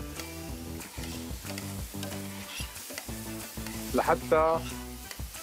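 Washed, unsoaked freekeh sizzles and is stirred in a hot pan, a steady crackle broken by scraping strokes, with music playing in the background and a brief word spoken.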